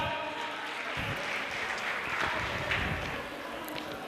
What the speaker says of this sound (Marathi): जोरदार टाळ्या आपण वाजवूयात